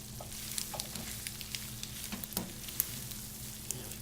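Japanese-style spaghetti with sauce sizzles and fries steadily in a pan, with brief stirring and tossing clatter as the noodles are flipped, close and fairly quiet.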